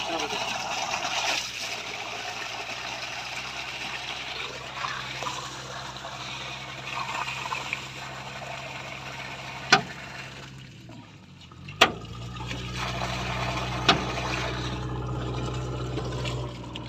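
Water gushes steadily from a newly installed 7.5 HP, 10-stage borewell pump, a continuous rushing splash outdoors, with a few sharp knocks and a brief dip partway through. People talk over it.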